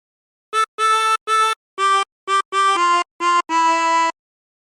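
A 16-hole tremolo harmonica plays a short phrase, about nine reedy wavering notes in a bouncy rhythm with small gaps between, close and clear against silence.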